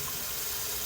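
Tap water runs steadily into a sink while brass valves are cleaned, a constant, close, even hiss with no pauses.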